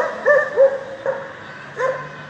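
Street dogs in the middle of Adapazarı, near the district governor's office corner, bark and yip in short sharp bursts, three or four barks spread over a couple of seconds, fairly close and loud, with no talking.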